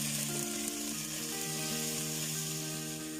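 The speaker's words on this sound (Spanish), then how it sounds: "Ahora ya es el momento de agregar el chile poblano. Vamos a dejar que se sofría aquí." Onion and poblano chile sauté in a pan with a steady, close sizzle that holds level throughout, without any voices.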